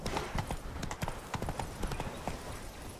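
Hooves of the horse Roach clip-clopping in The Witcher 3, a brisk, uneven trotting rhythm of many close hoofbeats over faint background ambience.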